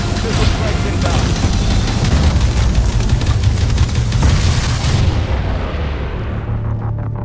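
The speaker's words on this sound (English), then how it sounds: "Missile strikes inbound." Missile strike explosions in Call of Duty: Advanced Warfare Exo Survival co-op mode: a loud, continuous wall of booming blasts and rumbling detonations, thick and close, fading off near the end.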